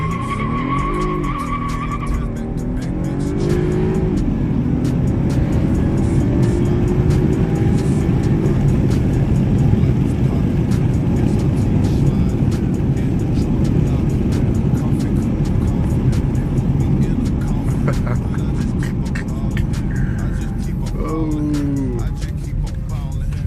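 A 2016 BMW 328i launches under launch control, engine revs climbing in steady gear-shift sweeps with a loud, continuous roar and some tire noise for over twenty seconds, heard from inside the car.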